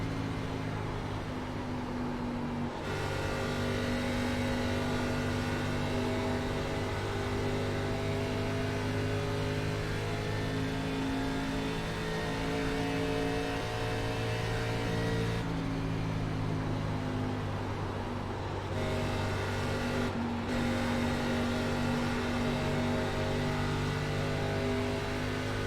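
ARCA race car at Charlotte Motor Speedway, heard from on board as the driver gets on the throttle: a loud, steady engine drone with layered harmonics that holds throughout, with brief shifts in pitch along the way.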